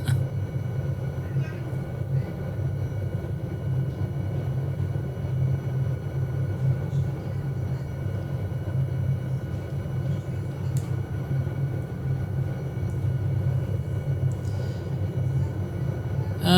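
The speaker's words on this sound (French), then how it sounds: "on va ralentir un peu notre hélico" SA315B Lama helicopter engine in Microsoft Flight Simulator, a steady low droning rumble throughout, moderately loud and unchanging.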